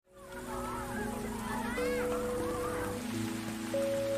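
Heavy rain pours in a steady, dense hiss throughout, close and constant, with music tones playing softly underneath.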